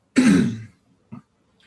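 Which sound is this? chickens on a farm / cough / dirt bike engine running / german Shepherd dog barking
cough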